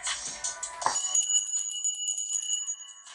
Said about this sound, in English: I'm ringing bells